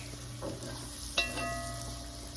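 Garlic goes into softened, translucent onions in a pot, setting off a quiet steady sizzle with a short clink of a utensil partway through and light stirring, no talk.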